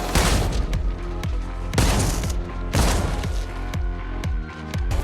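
Rapid shotgun fire with dragon's breath incendiary rounds in a John Wick action scene, heavy booming blasts in quick bursts with ringing tails between shots, over a dramatic music bed.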